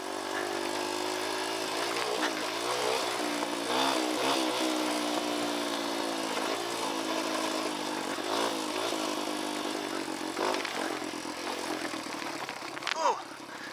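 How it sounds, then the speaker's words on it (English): Dirt bike engine drones steadily while riding downhill over rocks in Red Rock Canyon, with a continuous mid-pitched revving close by and a rider's voice talking over it. "I can feel the bike, it's got more power now."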